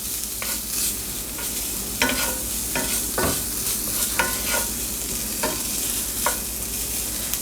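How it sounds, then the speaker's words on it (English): Sausage and onion being mixed together in a hot pan, a steady sizzle broken by repeated scraping strokes of a utensil against the pan, close and clear with no talking. "I'm just going to mix the sausage and the onion together"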